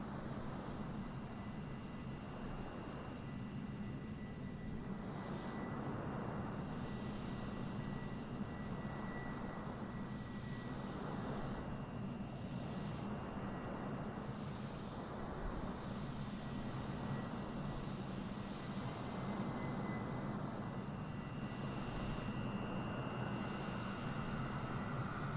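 A low-flying airliner landing at Sint Maarten airport passes overhead as a steady, broad roar of jet engine noise that swells and holds for the whole stretch, with no talk.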